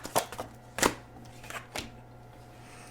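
A tarot card is pulled from the deck with crisp papery shuffles and snaps, a few quick bursts spaced over a few seconds, close and fairly quiet.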